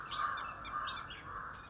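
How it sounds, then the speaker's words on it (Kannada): Morning birds chirp and tweet in quick, bright bursts, close and fairly clear over a soft background hush, with no talking. "ಪಕ್ಷಿಗಳು ಸೌಂಡ್ ಕೇಳ್ರಿ ಎಷ್ಟು ಮಸ್ತ್ ಬರತೈತೆ ನೋಡ್ರಿ."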